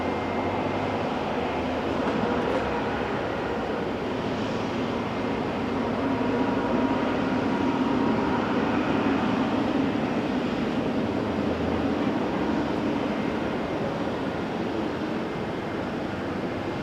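A Boeing 777 airliner at Auckland International Airport gives a steady, broad jet roar that holds fairly loud and even for the whole stretch, with a low rumble underneath and no talk.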